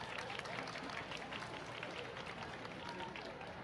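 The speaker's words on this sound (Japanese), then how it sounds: "観客の皆様、拍手でお送りください。" Audience applause at a university festival stage event, a steady, dense wash of clapping from a crowd, faint and distant, lasting throughout without a break.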